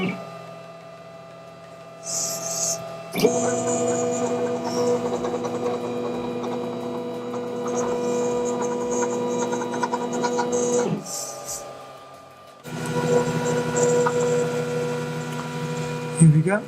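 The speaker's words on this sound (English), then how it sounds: "Well, let's do a test print" A 3D printer with a copper bed runs a test print, its stepper motors whining in sustained buzzing tones over a mains-like hum, with short pauses between moves.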